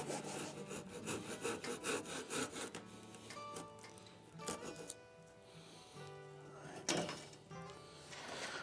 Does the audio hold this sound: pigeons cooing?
no